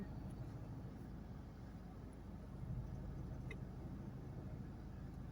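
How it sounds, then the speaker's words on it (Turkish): A car reversing slowly into a parking space during a Turkish driving-test L-park manoeuvre, giving a steady low engine hum with a slight swell midway, heard alone without talk. "Şimdi geri vitesteyiz ve geri gidiyoruz."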